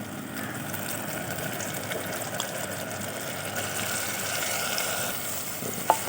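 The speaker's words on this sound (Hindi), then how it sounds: "ये थोड़ा सा पानी डाल रहे हैं।" Water is poured into onions and tomatoes frying in a cooking pot, giving a soft, steady hiss and sizzle at moderate distance, fairly quiet overall with a small clink near the end and no speech.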